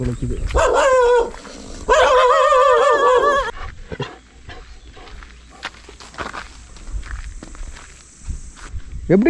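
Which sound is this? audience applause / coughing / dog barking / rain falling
dog barking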